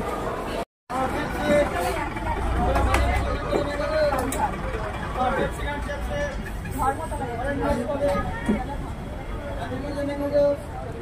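Busy platform bustle at Howrah railway station in Kolkata, with a dense babble of many voices, shuffling and passing noise, a continuous crowd hum kept up throughout with a brief dropout near the start.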